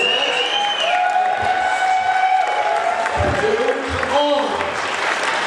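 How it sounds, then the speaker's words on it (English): A small comedy audience gives a few scattered, sparse claps that fade quickly, with a voice and some tonal background sound running alongside. "That's all the applause I get."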